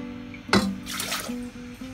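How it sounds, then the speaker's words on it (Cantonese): Shaoxing wine, about one and a half cups, poured into a pot holding cut pieces for Huadiao drunken chicken: a sudden close splash, then a steady trickling pour over a faint low kitchen hum, with no talking. "我哋而家咧就倒紹興酒啦"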